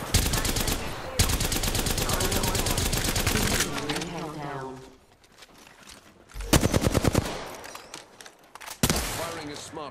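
Rapid automatic gunfire in the video game Apex Legends, long bursts of loud close shots, a brief lull with softer game sounds, then more sharp volleys near the end.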